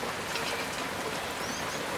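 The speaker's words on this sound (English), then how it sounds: "rain on my rooftop" Rain patters steadily on a rooftop in a soft, dense hiss, quiet and continuous with no talking.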